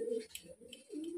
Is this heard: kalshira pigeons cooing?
yes